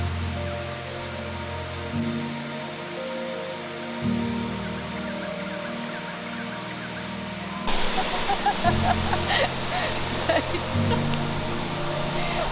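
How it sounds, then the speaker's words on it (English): Ton Kloi Waterfall in Khao Sok National Park roars as a steady broadband rush of falling water, close and constant, growing louder and more splashy partway through as the listener moves nearer. "we finally made it our destination, Ton Kloi Waterfall"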